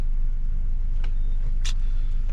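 A Toyota 4Runner cruises along an Oregon road, its steady low engine and road rumble loud and continuous from inside the cabin, with a couple of brief faint rustles over the drone.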